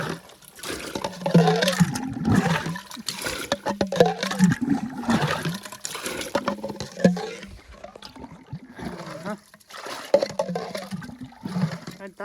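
Water pours and splashes into a bucket on a farm for mixing in a pesticide sprayer pump, a rushing, gurgling stream with uneven surges that runs throughout, close and moderately loud.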